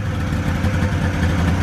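A 1995 Polaris XLT 600 snowmobile idles at around 2,000 RPM after running for the first time in 20 years, producing a steady, loud, close two-stroke burble with a rough, even pulse.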